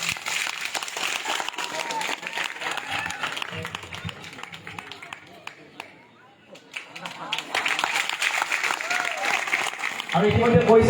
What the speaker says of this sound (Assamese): সকলোৱে জোৰদাৰ হৈ হাত তালি মাৰিব